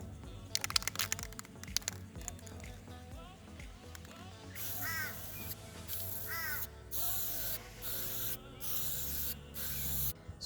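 Spray varnish hissing from an aerosol can in repeated bursts of a second or so, close and fairly loud, with some rubbing and handling noises before the spraying starts.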